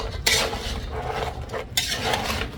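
Stirring sweet and chili mud crab in a pan, a steady scraping and clattering of the utensil against the pan with a couple of sharper knocks, close and fairly loud, no talk.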